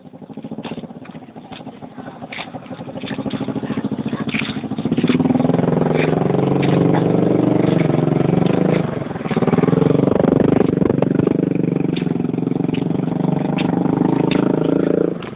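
A motorcycle engine runs with a steady, rumbling drone that grows louder after a few seconds and holds close and continuous to the end.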